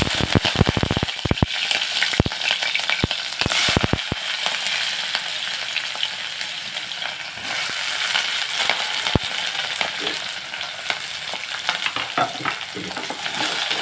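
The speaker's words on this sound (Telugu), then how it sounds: "ఆయిల్ హీట్ ఎక్కింది మనం ఇప్పుడు ఇందులో పచ్చిమిర్చి ఉల్లిపాయలు" Green chillies and onions crackle and sizzle loudly in hot oil, a dense continuous frying hiss with sharp pops and scraping stirs near the start, close and steady for the whole stretch.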